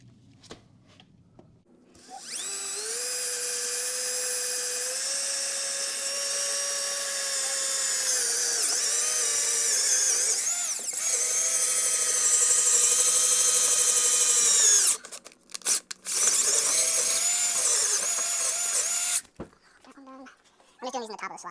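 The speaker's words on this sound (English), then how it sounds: "I'll go ahead and get those bottom holes drilled and then start tightening these down evenly." Power drill boring the bottom mounting holes for a 2024 Suzuki DF25A outboard motor, a loud sustained whine that rises slightly in pitch, then cuts into short bursts before stopping.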